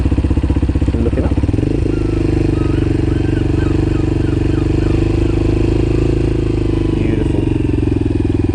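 A learner's motorcycle pulls away smoothly on gentle clutch, the engine note steady and close, rising slightly as it moves off, with an instructor's voice briefly heard.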